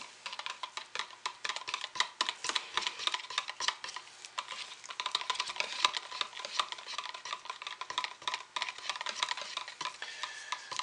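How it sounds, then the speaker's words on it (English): A spoon stirs apple sage scented soap batter in a container, quick uneven clinks and scrapes repeating for several seconds, close and fairly quiet, with no voices. "Stir it in."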